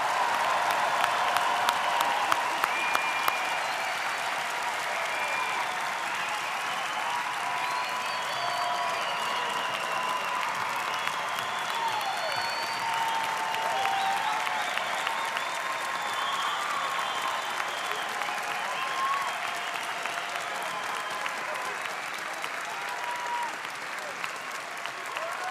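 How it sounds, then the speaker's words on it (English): A large crowd at a Walt Whitman High School commencement ceremony applauds the graduating class of 2026, with sustained, even clapping that continues without a break, plus scattered whoops and cheers over it. "Will all those in attendance please join me in giving a round of applause and congratulating the class of 2026 one last time"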